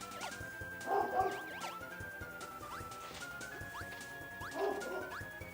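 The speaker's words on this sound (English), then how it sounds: "I have the loudest dogs ever" Dogs bark loudly in two separate bursts of yaps and woofs, about four seconds apart. Light electronic video game music plays underneath.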